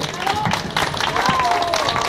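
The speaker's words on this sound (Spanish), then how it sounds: "Aplauso fuerte." Sustained clapping from a tango show audience in Buenos Aires, a steady crowd-wide patter with a few cheers and voices on top.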